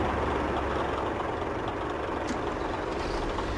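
A log skidder's heavy engine idles in the off-road driving game MudRunner, a steady, dense low rumble with no talking.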